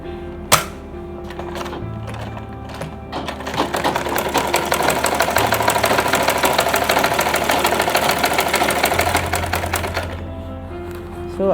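A sewing machine stitches fabric for a lunch bag, a loud steady mechanical whir running for several seconds after a few short start-stop bursts, with brief pauses at the start and end.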